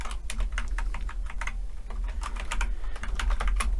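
Rapid, steady typing on a computer keyboard while entering fetch code, with dense clusters of close key clicks and brief pauses between bursts.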